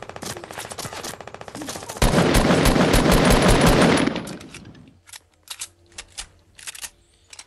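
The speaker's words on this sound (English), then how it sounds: "Dude, this new SMG melts, bro." Rapid SMG fire in a Fortnite match: a fast crackle of shots, then a loud two-second stretch of continuous fire that cuts off and gives way to scattered, faint single pops.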